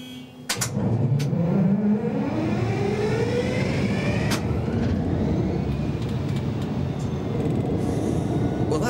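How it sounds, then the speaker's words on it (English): A Class 66 diesel freight locomotive starts up with a click and a rising whine, then its engine builds into a loud, steady rumbling idle with a droning, rising tone, heard close for several seconds. "I've just started up 127 tons worth of freight loco"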